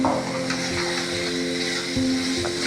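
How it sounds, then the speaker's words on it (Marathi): Spices for an egg curry fry in a pan with a steady, close sizzle that holds at an even level throughout, with a faint hum running underneath. "मस्त फ्राय करून घेणं"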